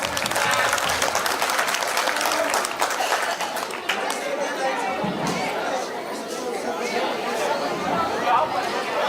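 At a school annual day, a crowd claps loudly with scattered cheers for grade toppers, the applause thinning out gradually amid chatter.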